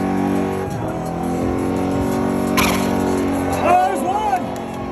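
A car engine accelerates hard in third gear, a steady revving roar under excited shouting from people inside. A high whine rises near the end.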